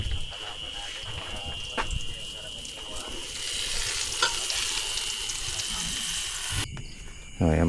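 Eggplant and tilapia frying in oil give a steady, close crackling sizzle through most of the stretch, with a few sharp pops and a sudden cut near the end. Voices occasionally talk over the cooking.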